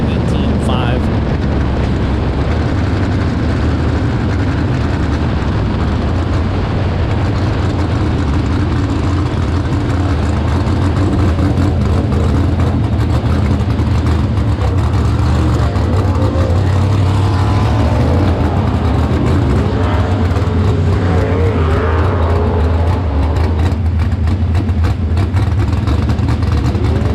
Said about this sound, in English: And Steffens, the outstanding modified driver who's had success on 1 mile tracks. It's his qualifying run in the books.